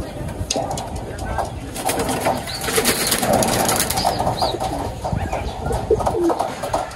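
Young racing pigeons in a loft coo in soft, repeated throaty calls with occasional wing flutters, close by, while someone talks over them.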